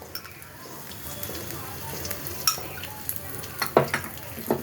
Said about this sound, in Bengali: আমি কড়াইয়ের মধ্যে তেল দিয়ে দিলাম।